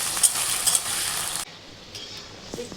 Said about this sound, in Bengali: তেল গরম হয়ে গেছে, ওই পনিরগুলো দিয়ে দিই, লাল লাল করে ভাজবো একটু।